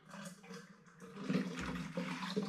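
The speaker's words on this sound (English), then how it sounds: "Stick a bit more spring water in." Spring water pours into a vessel of apple juice while a homemade autumn hard cider is being started, a steady liquid gush rising in the second half, close and fairly loud, with no talking.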